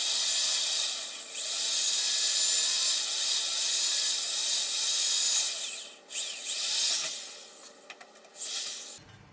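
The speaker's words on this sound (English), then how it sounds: "We'll go ahead and drill these holes through" A power drill bores holes through a thick 3/16-inch stamped steel mower deck on a Workmaster 25S tractor, giving a loud high grinding whine that runs for several seconds, dips and resumes, with no talk.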